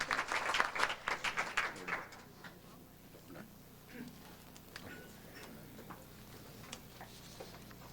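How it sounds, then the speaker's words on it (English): An audience at a 90th birthday party claps in a burst of applause that is loudest at first, then thins to scattered claps and tapering noise. "Give him a big round of applause."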